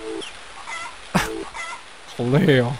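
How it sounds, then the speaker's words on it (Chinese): In the video game 肥宅物語, a rooster gives a short, clear crow near the end, after a few spoken words and some brief game sounds. "我喜欢那个鸡叫的声音"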